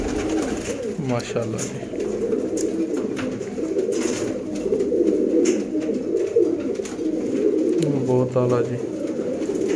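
Teddy pigeons coo repeatedly in soft, rhythmic bursts, close by, while someone talks over them throughout; the setting is a pigeon sale in Sialkot.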